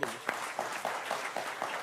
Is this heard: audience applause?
yes